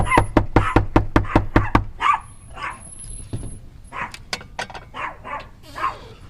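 A dog barks in a quick run of sharp, close barks, then several more scattered barks as people talk over it.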